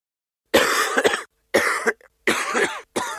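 Four harsh, loud coughs come in quick bursts with short silent gaps between them, close and raspy.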